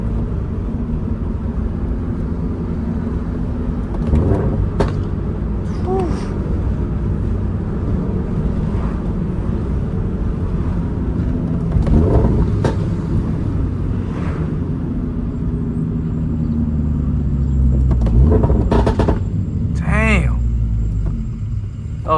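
A Toyota GR86 or Subaru BRZ with a manual gearbox drives along, its exhaust droning and rumbling steadily with a few brief pops and crackles scattered through, heard from inside the car.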